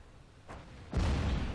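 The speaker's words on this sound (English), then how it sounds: "So I'm going to take another shot, a blind shot, assuming that he's in the same spot." A KV-2 self-propelled gun fires in the World of Tanks game: a faint thump, then a loud, deep boom that rolls on and fills the rest of the moment.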